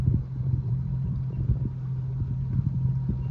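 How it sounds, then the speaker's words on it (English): A pontoon boat motors across a calm lake on a holiday outing. A steady low engine drone and rumble continues throughout with faint wind noise, and no one talks. "Take a ride with us on the pontoon."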